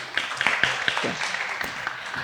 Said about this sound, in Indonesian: tepuk tangan buat Bu Margi